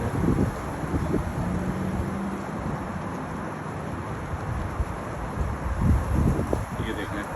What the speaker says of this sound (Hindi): अभी आप देख सकते हैं अच्छी खासी हवा चल रही है